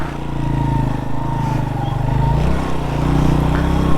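A motorcycle engine idles and runs steadily while the bike is parked on a cold-desert trail in Basho Valley, with a continuous low, pulsing rumble close by throughout.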